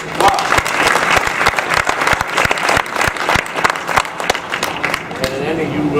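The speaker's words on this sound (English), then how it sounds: "Round of applause." A sustained round of applause from the audience at a high school winter sports awards night, dense steady clapping throughout with a crowd murmur underneath.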